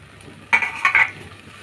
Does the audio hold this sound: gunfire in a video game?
no